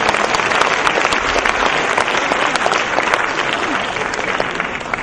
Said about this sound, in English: Please join me, clap hands in congratulating the IESO Secretariat and the host country, India, for wonderful organization.